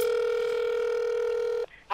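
A telephone dialing a travel agency gives a steady, loud electronic tone that holds for over a second and a half, then cuts off abruptly into a short quieter blip.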